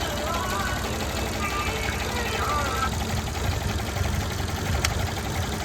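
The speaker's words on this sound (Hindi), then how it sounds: "ये इंजन 3 सिलेंडर पे स्टार्ट है।" A Tata Zest petrol engine idles roughly on three cylinders with a fourth-cylinder misfire, a close, continuous uneven rumble with a knocking pulse and a voice talking over it.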